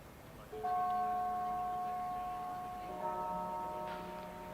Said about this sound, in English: And that's the gong we are hearing, indicating that it's 5 o'clock.